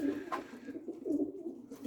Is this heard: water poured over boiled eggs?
no